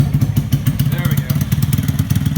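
A trike engine idles just after start-up, a loud, close, steady throbbing rumble with rapid rhythmic pulses throughout.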